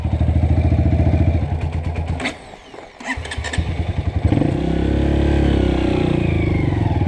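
A Honda CRF 230 motorcycle engine labours on a hill with a failing clutch, its steady thumping idle broken by a dip and a clatter before it revs up again into a loud, sustained drone.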